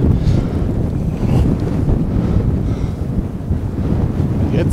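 Strong March wind buffets the microphone beside the Bostalsee lake, a loud, continuous rumbling roar with gusty swells and no clear talk.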